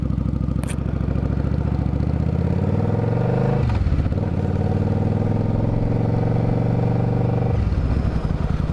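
A Suzuki Marauder VZ800 cruiser motorcycle rides along with a steady, loud engine drone, then shifts gear partway through. The revs dip and pick up again before a second shift near the end, with no talking.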